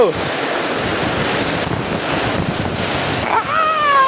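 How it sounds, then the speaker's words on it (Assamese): A storm with hail at a rural home among bamboo, dominated by loud, continuous gusting wind roaring into the microphone, with a faint high whistling tone near the end. "আজি ধুমুহা আহিছে ধুমুহা আৰু এইবিলাক চা শিলগুটি বৰফ পৰিছে"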